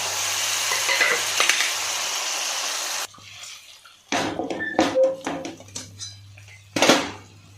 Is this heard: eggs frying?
yes